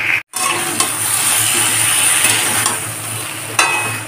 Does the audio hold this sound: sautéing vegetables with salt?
yes